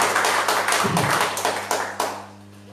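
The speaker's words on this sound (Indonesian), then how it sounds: "Boleh berikan tepuk tangan yang meriah bagi Yesus Kristus" A church congregation at a worship service clapping for Jesus Christ, a brief burst of hand claps with several distinct loud claps that quickly die away into quiet.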